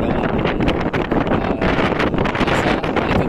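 Steady wind roars and buffets the microphone on the ship MV Maligaya, a loud, continuous rush with no speech.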